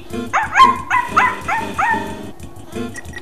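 A small cartoon dog barks in Undertale, a run of quick, bright yips in a bouncy rhythm over a low looping game melody, then the barking stops while the music continues.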